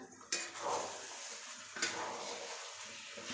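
Onions and crushed pepper are stirred into a pot of chicken curry, with a clinking scrape of the spoon against the pot, a couple of sharper knocks, and soft frying underneath.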